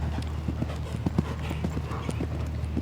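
Horse hooves clip-clop in an irregular rhythm on a show jumping course at an equestrian championship, moderately close and soft, over a low steady background hum.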